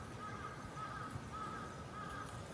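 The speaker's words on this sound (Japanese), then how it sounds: "カラスめちゃくちゃ頭いいっていうね。" A crow caws repeatedly in a steady series of harsh calls, faint and somewhat distant over outdoor background noise.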